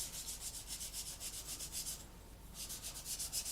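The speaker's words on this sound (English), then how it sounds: "we're taking a very worn sanding sponge and all we're doing is lightly going over" Steady, rhythmic rubbing of a worn sanding sponge lightly over a plastic scale-model fuel tank, in quick repeated strokes with a brief pause midway.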